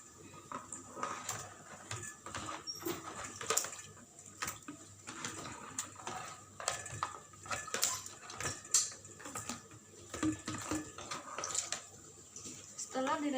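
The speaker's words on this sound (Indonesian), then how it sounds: "maka kita bersihkan dulu di air mengalir supaya bersih" Soiled items rinsed under running tap water during a disinfection and sterilization practical: steady splashing flow with clinks and handling noises, a person talking over it.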